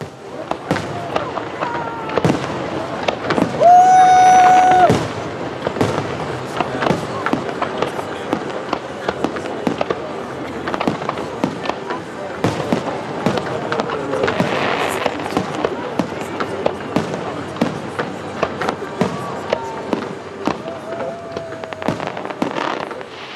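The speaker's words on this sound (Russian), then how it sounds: "Самые лучшие моменты праздничного салюта смотрите прямо сейчас" A festival fireworks show bangs and crackles continuously, with a whistling rocket and distant crowd noise and voices mixed in throughout.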